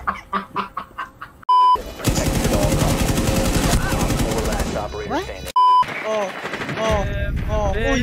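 Rapid automatic gunfire from a video game machine gun, in loud sustained bursts broken by brief pauses, with clucking chicken sounds and players talking over the action.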